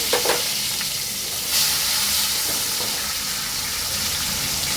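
Tomato and onion hit hot oil in a kadai with a strong, steady sizzle and a brief louder burst, a few stirring clinks near the start, all close and continuous.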